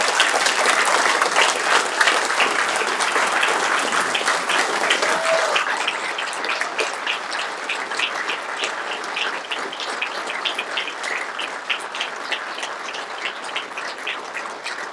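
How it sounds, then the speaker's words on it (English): Steady, dense applause fills a municipal council chamber in the Town of Collingwood as a newly sworn-in town council is welcomed. The clapping stays loud and continuous throughout, easing slightly partway through. "So please, round of applause."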